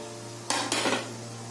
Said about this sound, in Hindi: अब हम इसमें फ्राई किया हुआ मूली डाल देंगे